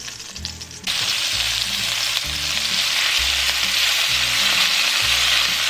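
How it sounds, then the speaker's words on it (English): Beef searing in a hot pan for a summer soup, a loud steady sizzle that jumps up after a quieter first second and keeps crackling densely, with low clatter and knocks from the pan underneath. "While the meat is searing, we're going to prepare our veggies."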